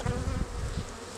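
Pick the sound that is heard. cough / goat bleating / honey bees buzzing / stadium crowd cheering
honey bees buzzing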